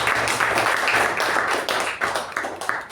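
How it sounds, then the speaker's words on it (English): A round of applause at a club meeting, close and loud, with many hands clapping in a dense patter that thins and turns choppy toward the end. "you can give a round of applause"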